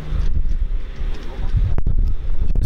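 Strong wind buffets the microphone on a sunny, windy day near Gibraltar, with a view across the strait to Morocco, giving a continuous low rumbling roar with a few sharp gust bursts.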